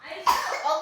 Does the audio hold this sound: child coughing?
yes